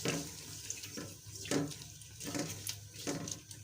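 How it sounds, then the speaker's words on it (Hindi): About half a cup of water is poured into a pot of frying onions while preparing white matar pulao, with a running splash and sizzle that surges in several bursts, close and fairly loud. "और थोड़ा सा हम इसमें ऐड करेंगे पानी"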